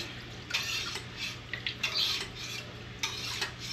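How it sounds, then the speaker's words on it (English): A whisk cuts cheese curd in a metal pot of milk during home dairy processing, making soft, irregular scraping and sloshing strokes up close with no talk. "we're gonna use a whisk to achieve that"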